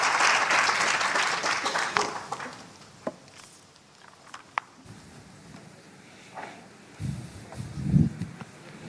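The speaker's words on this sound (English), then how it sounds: "may I ask for a round of applause for our panelists today?" An audience at a biotech conference panel claps for the panelists in a loud burst that fades into scattered claps, footsteps and rustling.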